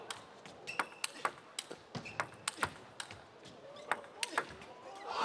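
A fast table tennis rally at a World Championships men's team quarterfinal, with sharp ball hits on paddles and table in a quick, irregular rhythm and a commentator talking over it.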